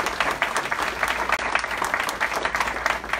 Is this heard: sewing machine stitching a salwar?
no